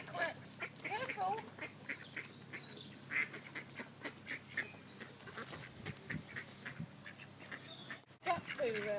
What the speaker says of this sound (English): Quack, quacks. Quack, quacks.